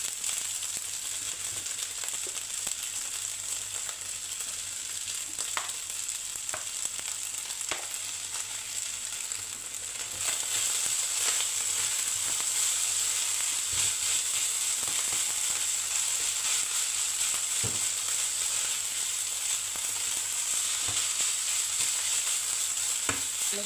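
Chinese fried rice (chao fan) with oyster sauce sizzles and hisses in a hot pan, a steady frying sound with occasional scrapes and clinks of stirring, growing slightly louder partway through, no talking.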